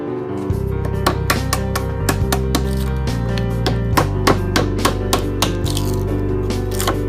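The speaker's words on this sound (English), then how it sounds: "I started off by removing the bark off the logs with a chisel and hammer" A hammer drives a chisel to strip bark off walnut logs in a rapid, irregular run of sharp woody knocks. The strikes are close and loud over a constant low mechanical hum.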